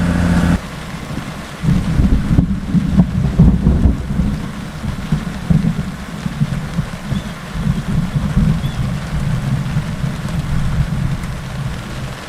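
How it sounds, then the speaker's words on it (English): Rumbling thunder from a Florida thunderstorm, a deep low roll that swells after a brief quiet start and keeps grumbling for several seconds, with steady rain hissing underneath. "I can hear frequent thunder"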